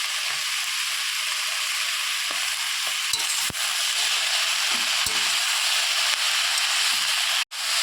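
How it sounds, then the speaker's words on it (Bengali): Pumpkin stem greens fry with salt and turmeric in a hot pan, a loud continuous sizzle broken by occasional scraping strokes of a stirring spoon. "এটাকে ভালোভাবে মিশিয়ে নেব"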